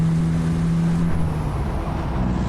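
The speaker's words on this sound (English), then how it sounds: "There's nothing like having a nice truck and a good sound" A truck engine in American Truck Simulator drones at a steady, loud idle-like hum, with a constant low tone holding throughout and no talking.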